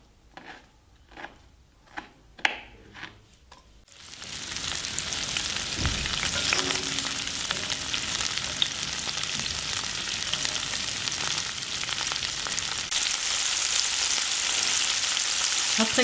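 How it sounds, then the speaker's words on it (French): A few sharp clicks and knocks come first, then olives, hot pepper and capers hit a hot pan for puttanesca sauce and break into a sudden loud, steady sizzle that keeps going close by. "je vais faire rissoler le tout"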